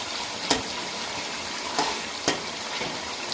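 Chicken karahi simmering with tomatoes gives a steady bubbling sizzle, broken by a few soft scrapes and presses of a spoon against the pan, close up and with no voices.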